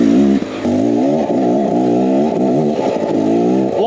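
A 2023 Beta X Trainer 300 two-stroke dirt bike engine, ridden on rocky shale trail, revs loud and close, its pitch rising and falling repeatedly as the throttle works on and off.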